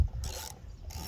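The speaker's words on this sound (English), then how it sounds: "then you can get your ratchet back" A ratchet fitted with a 16 mm socket tightens a spark plug on a Husqvarna machine during spring maintenance, giving a brief close mechanical clicking in two or three quick bursts, heard alone.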